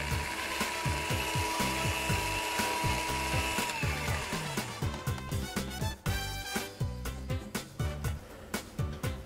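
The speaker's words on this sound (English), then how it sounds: "Now I'm going to use electric mixer and beat it until it becomes pale yellow." An electric mixer beats butter, giving a rhythmic mechanical whirring and clicking with repeated pulses that grow sharper and more rattly toward the end, loud and close with no talk.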